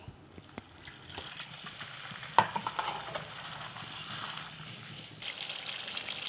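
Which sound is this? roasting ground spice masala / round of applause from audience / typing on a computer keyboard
roasting ground spice masala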